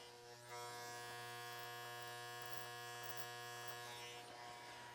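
Electric hair clippers buzz steadily and close up while cutting hair for a classic Hollywood pompadour, a bright, even motor whine holding for several seconds with no voices.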